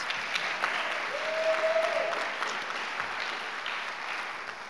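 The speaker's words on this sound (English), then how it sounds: "Let's give them one more round of applause." A crowd claps steadily in sustained applause, a dense even patter with no voices standing out.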